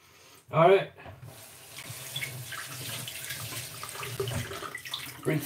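Ingredients for chili con carne are rinsed under a running kitchen tap, with a sharp splash of water hitting the sink followed by steady flowing water and clattering, and someone speaks briefly over it.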